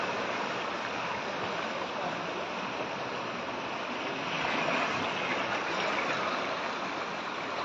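Floodwater surging down the swollen Dhaleswar river, a loud, steady broadband rush of flowing water with no pauses throughout.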